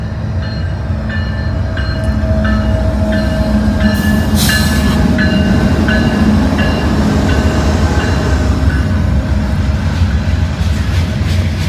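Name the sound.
freight train passing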